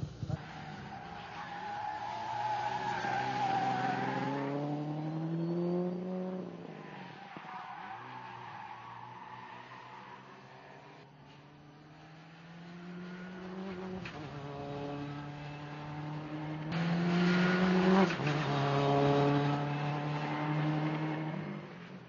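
Navy blue Subaru Impreza rally car driving hard on a race track, its engine loud and close, revving up and down in repeated sweeping surges with tire noise, continuous for the whole stretch with no talking.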